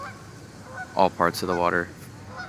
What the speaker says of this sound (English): Looks like there's some little creatures out there, some geese.